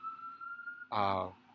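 A faint, steady siren tone holds for a moment, then a louder, brief wailing blast cuts in before it fades.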